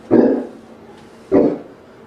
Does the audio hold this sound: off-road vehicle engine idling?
no